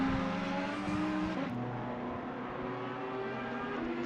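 Virtual Ferrari and Audi race cars battling at Circuit of the Americas in a PS5 racing game, steady loud engine drone with shifting pitch and a brief gear change partway through, no voices.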